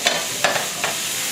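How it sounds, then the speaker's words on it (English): Minced garlic and diced onion sizzle in butter in a pan, with a steady close frying hiss and a few soft stirring scrapes spaced through it. "So I'm adding some butter in the pan, and I'm gonna add in the minced garlic and diced onion."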